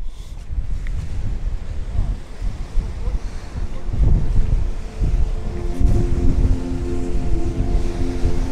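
Wind gusts in Glencoe in the Scottish Highlands buffet a microphone outdoors, making a loud, low rumbling roar that swells and dips, stronger in the second half.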